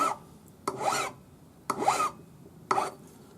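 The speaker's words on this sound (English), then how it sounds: "This is also a number 2 cut file." A number 2 cut file scrubs across metal while a jeweller shapes a hammer charm, giving three separated rasping strokes, each a gritty, close push about a second long with quiet pauses between.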